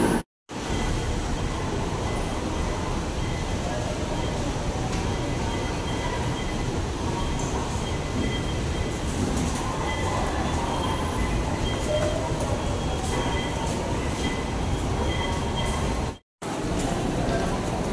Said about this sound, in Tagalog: Ito na, kasunod na train.